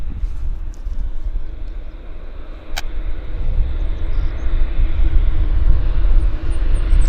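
A Q400 turboprop landing at Vancouver Airport, heard as a steady, broad engine and airflow roar building slightly louder toward the end, with no talk.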